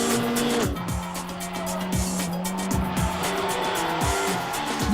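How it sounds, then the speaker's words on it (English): A Toyota Corolla WRC rally car driven hard by a Belgian driver during development testing, its engine revving loudly through repeated gear changes with sharp pitch drops, close and continuous without talk. "The Belgian driver, Freddy Loix, is the first to take the wheel."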